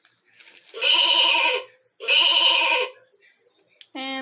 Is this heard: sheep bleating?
yes